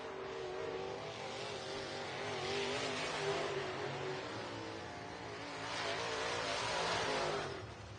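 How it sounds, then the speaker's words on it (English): Race car passing at Southern Raceway in Milton, Florida, as it takes the checkered flag at the end of a hot lap session; a sustained engine roar swells, eases, then surges again as the car goes by at mid distance. "Jade Lusenberg takes the checkered flag to end this hot lap session"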